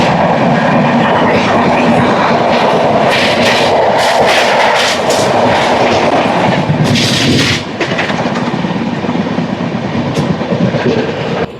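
The Falaknuma Express train runs fast on rails past Eluru station, with a loud continuous roar and rapid clickety-clack of wheels over rail joints, close and sustained throughout.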